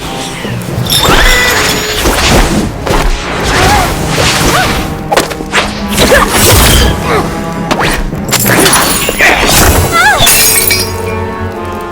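A painting being smashed in the Harry Potter: Magic Awakened video game, loud repeated thwacks and glassy crashing mixed with clanking mechanisms, with voices talking over the din throughout.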